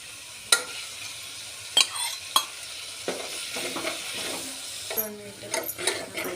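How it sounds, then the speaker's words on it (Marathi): Curd is stirred into vegetable pulao in a pot, giving a soft sizzle under repeated spoon scrapes and knocks against the metal, with a busier stirring burst near the end. "आपण छान हलवून घेऊया"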